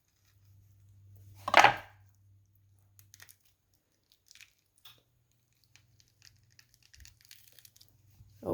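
A knife cuts around the pit of a skinned peach during jam-making, giving one soft, wet squishing slice, followed by scattered faint clicks and small handling sounds over a low hum.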